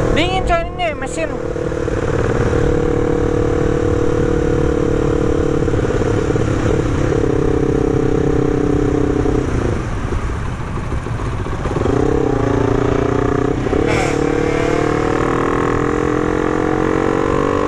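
Several motorcycles, including a Suzuki Sonic, a Tiger and a Yamaha Aerox, idle loudly and close with a steady rough drone, briefly revving near the middle and again toward the end, while voices talk over them.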